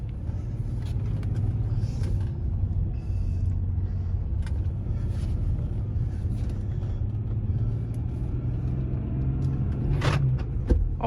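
A BMW X5 Sport with a rare six-speed manual drives along with a steady low engine rumble and road noise heard from inside the cabin, with a faint click near the end.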